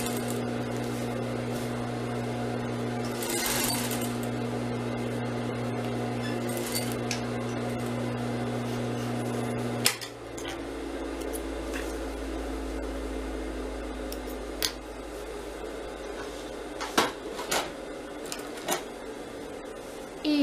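A sewing machine stitches fabric for flexible crinoline hoops. A steady motor hum runs for about ten seconds, then drops to a lower rumble with scattered light clicks.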